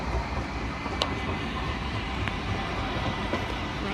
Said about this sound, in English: Newcastle Beach Service, tram 52.